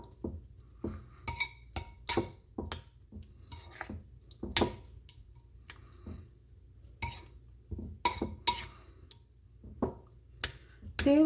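Beetroot raita being stirred in a bowl: a spoon clinks and taps against the sides in a steady, irregular rhythm, with soft wet squishing between strikes, close and fairly quiet.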